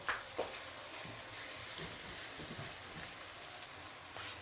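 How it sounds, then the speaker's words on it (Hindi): A soft, steady sizzle of ginger-garlic paste frying in a pan, fairly faint, with a couple of light scrapes at the start and no voices. "तो अब हम इसमें डालने जा रहे हैं अदरक लहसुन का पेस्ट। ये हम इसको भून लेंगे।"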